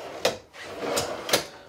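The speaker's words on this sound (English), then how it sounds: "this other pantry I'm about to show you is actually pull-out drawers here" Pull-out pantry drawers in an RV fifth-wheel glide open and shut, giving three short sliding clunks spaced about a second apart, close and moderately loud, with no voices.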